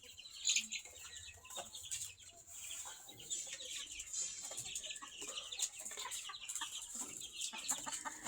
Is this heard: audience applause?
no